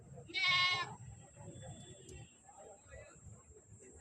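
A goat gives one loud, wavering bleat nearby at a weekly livestock market in Siddipet, then people keep talking over a faint background hum.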